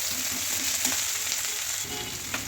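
Onion and tomato fry in hot oil for shev bhaji, giving a steady, close, even sizzle with no talking.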